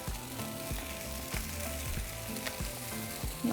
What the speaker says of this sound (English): And I have my comal set on medium-high heat. And now we're just going to cook them.